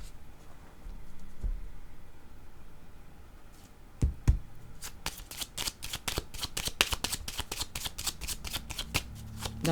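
A deck of cards shuffled for a card reading, rapid riffling flicks starting midway and continuing in quick bursts, close and crisp against a quiet room.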